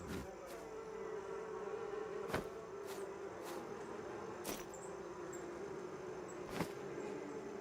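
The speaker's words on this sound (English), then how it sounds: "I can't hear anything over the bees." Steady droning buzz of a swarm of bees in the farming game Farmer's Life, continuous and fairly close, broken by a few faint sharp clicks.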